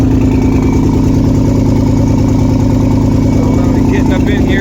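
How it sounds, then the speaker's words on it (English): Engine of a 2013 Chevrolet Tahoe PPV police vehicle with an exhaust leak, idling with a loud, steady, pulsing rumble close by, tinged with a rough rasp throughout. "See how it's rumbling so goddamn loud? That's a surefire sign of an exhaust leak."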